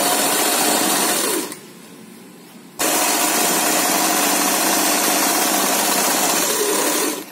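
A sewing machine stitches an umbrella gown with a loud, continuous whirring run that stops briefly and then resumes steadily to the end.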